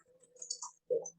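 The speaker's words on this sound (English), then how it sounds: "And then I'm going to type in graphic" Computer keyboard typing in a short burst of soft, close key clicks, a brief pause, then a louder cluster of keystrokes near the end, with no voices.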